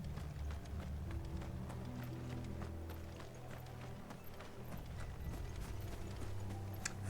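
Horse hooves clip-clop steadily in Final Fantasy XVI, a quick rhythmic trot of soft knocks over low rumbling game ambience and faint mechanical clanks.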